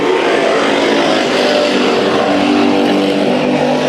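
Race cars in a speedway heat race at Bakersfield Speedway roar continuously, a loud, dense engine drone that holds steady and close without a break.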